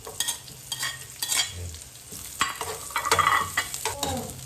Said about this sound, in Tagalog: Unahin muna natin sibuyas natin mga tambay.